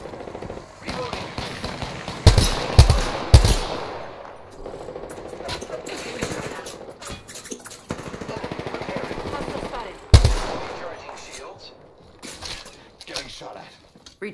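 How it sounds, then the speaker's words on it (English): Apex Legends gunfire comes in a few loud bursts of rapid shots over a busy game background, mostly clustered early and again near the middle, with voices in between. "I am taking fire, friends"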